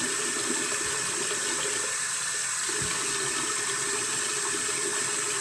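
Lukewarm tap water runs steadily into a sink for face washing, a continuous close hiss and splatter with slight shifts in the flow as hands move under the stream.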